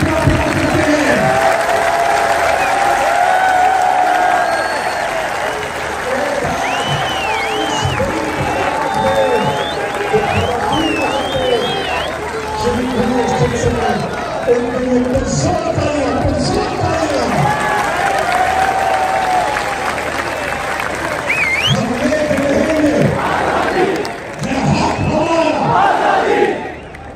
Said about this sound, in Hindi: जरा हाथ उठाकर तालियों की गूंज में बताइए कि आप इमरान खान से कितना प्यार करते हैं।